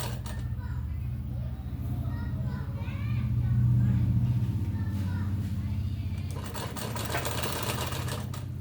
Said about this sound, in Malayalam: അതിന് ശേഷം റൗണ്ടിൽ സ്റ്റിച്ച് ചെയ്തെടുക്കുക കേട്ടോ.